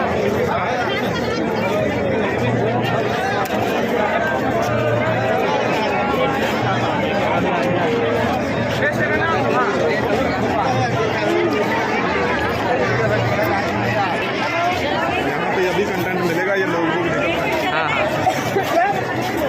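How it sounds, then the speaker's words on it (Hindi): Dense babble of a huge crowd at Rahul Gandhi's public rally in Ambikapur, a steady loud roar of many overlapping voices filling the whole stretch with no single speaker standing out. "और देखिए इधर ज़बरदस्त भीड़ है भाई, मतलब इतना ज़्यादा भीड़ है कि क्राउडली भीड़ है भाई।"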